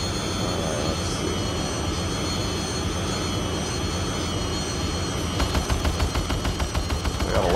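Rapid gunfire from a Harrier jet in the Eagle One: Harrier Attack game, a fast rattling burst of bullets rising over a continuous roaring aircraft engine drone, loud and close.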